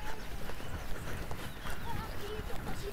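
Horse hooves clip-clopping steadily in an arena during a show-jumping riding lesson, a rider rounding the horse into a corner, with an instructor talking over the hoofbeats.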